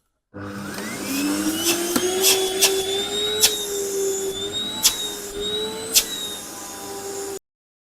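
A repaired vacuum cleaner runs through a suction test with a steady, loud motor whine and rushing airflow, its pitch wavering slightly and punctuated by a few sharp knocks, with no talking.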